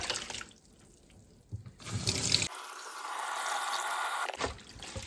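Tap water runs into a sink with splashing as raw chicken pieces are rinsed, starting quietly, then flowing steadily before stopping.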